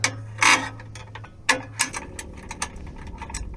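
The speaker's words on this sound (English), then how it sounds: "Next, we put in the provided bolts." A ratchet fastens bolts on the skid plates of a Toyota Tacoma, producing close, irregular clicks and metallic clacks in short bursts.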